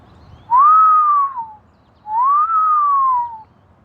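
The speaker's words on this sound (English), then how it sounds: "I'm gonna whistle." Two long rising-then-falling whistled notes from a person outdoors near eagles, each about a second long with a short gap between, clear and fairly loud over quiet background.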